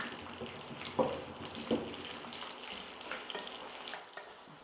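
Chopped shallots frying and stirred for a Kerala-style mushroom theeyal, faint steady sizzling broken by two sharper spoon clacks early on and softer stirring afterward.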